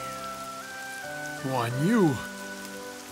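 Heavy rain pours steadily through a cutscene in the PlayStation 2 strategy game Dynasty Tactics. It sits under sustained music while someone shouts once near the middle.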